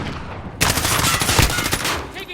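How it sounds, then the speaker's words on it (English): Sustained rapid video-game gunfire with overlapping automatic bursts in a Call of Duty-style firefight, loud and close after a brief quieter lead-in, with a voice faintly mixed under the shooting. "Taking fire!"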